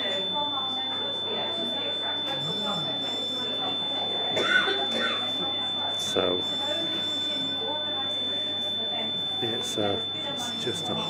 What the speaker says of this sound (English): there seems to be some alarm going off